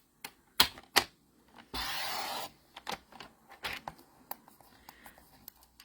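Scissors snip through paper for a handmade card, with a few sharp crisp cuts, a longer sliding cut and scattered rustling and handling of the sheet, close and fairly quiet.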